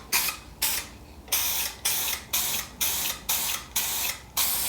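Spray can or spray gun coating bare metal spots on a classic car body, heard as about nine short, even hissing bursts in a steady rhythm, close and loud, with no talking.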